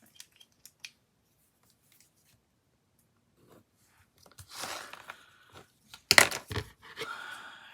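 Scissors snip through a paper strip for the interior of a removable belly band on a planner cover, a few quick close cuts after a near-silent start.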